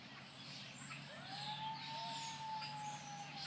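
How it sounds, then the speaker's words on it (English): A distant emergency siren in Toronto rises and holds a faint wailing tone over a city street, with birds chirping nearby and low urban background noise. "Did I hear a siren?"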